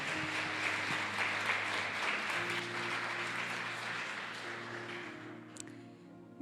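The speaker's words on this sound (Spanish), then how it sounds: "Quiero que levante un aplauso al Señor porque el Señor es bueno" A church congregation applauds together, a sustained wash of clapping that gradually thins and fades over several seconds, with a faint tonal hum underneath and a lone voice near the close.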